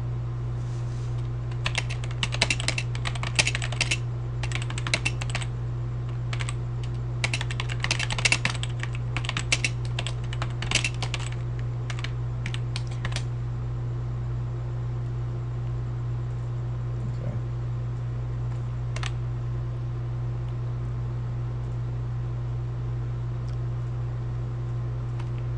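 Typing on a computer keyboard, bursts of rapid clicky keystrokes close up for about half the stretch, then only sparse taps over a steady low hum.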